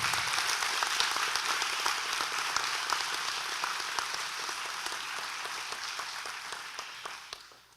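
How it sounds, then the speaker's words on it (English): An audience at a career center ceremony claps steadily in a dense, even wash of applause that tapers off at the end. "Please give these students a round of applause."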